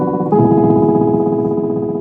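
Bass guitar with a piezo pickup in the bridge saddles sustains a low note that shifts to a brighter, harmonically rich tone after a fresh attack, ringing loud and close with no talk.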